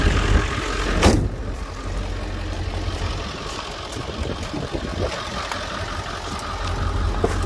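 A 1997 Ford E-350 dually utility service-body van with a 7.3 turbo diesel idles steadily at close range, a continuous low rumbling clatter with a brief louder knock near the start and no talking.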